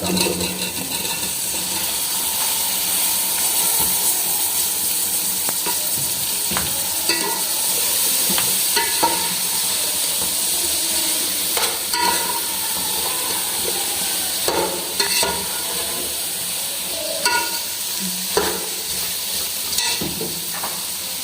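Boiled lotus root sizzles and fries loudly in a hot spiced tempering for a village-style Sindhi curry, with steady hiss and scraping stirs throughout and no talking.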